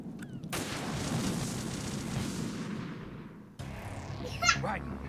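Gunfire from Metal Gear Solid 2 comes as a loud burst that rumbles and slowly fades, then cuts to a second sharp impact with a brief ringing tail near the end.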